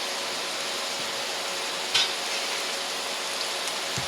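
Steady sizzling hiss of onions and garlic frying in butter in a pot, a constant quiet crackle with a few faint utensil knocks.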